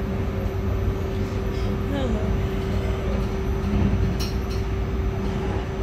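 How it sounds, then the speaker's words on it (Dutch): A Dutch passenger train travels near Driebergen, heard from inside as a steady rumbling roll with a constant electric whine and occasional rattles, loud and continuous. "Dit is nog maar niet de trein naar Enschede,"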